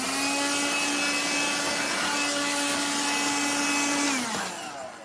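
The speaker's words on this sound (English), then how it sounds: "I need to vacuum up my workshop." Vacuum cleaner running steadily while cleaning a dirty workshop floor strewn with plastic debris, a loud continuous whine with a steady hum that winds down near the end as the motor cuts off.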